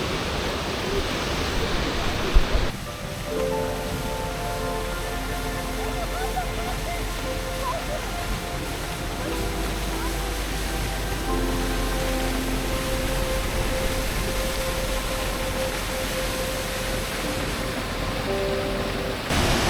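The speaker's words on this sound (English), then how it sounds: "you can still hear the water thundering" Triberg waterfall in Germany's Black Forest thunders as a steady broadband rush of falling water, continuous and fairly loud, with faint tonal hum layered over it after the opening seconds.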